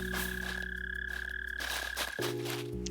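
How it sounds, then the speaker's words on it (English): A steady insect-like chirp sits at constant pitch through the clip alongside game music from Animal Crossing: New Horizons, the chirping continuous and fairly prominent before the music shifts near the end; no one speaks. "Currently being driven to madness by crickets."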